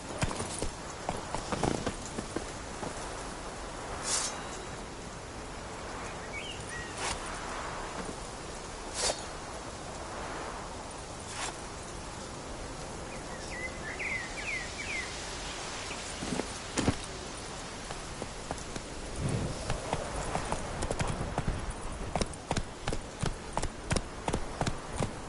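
Roach, a horse in The Witcher 3 played on PS5, clip-clops along at a walk, hoofbeats steady and moderately close, speeding into a quicker rhythmic gallop near the end over a faint ambient bed.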